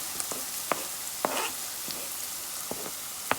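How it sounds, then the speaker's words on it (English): Onions frying in a pan for a Guyanese dinner, a steady quiet sizzle under a hiss of background noise with a few light clicks and stirring taps, no voices. "So I just added some onions to the pan."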